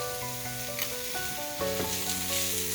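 Turmeric is stirred into a frying base for dumpling soup, steady close sizzling with occasional soft spoon knocks against the pan, no talk.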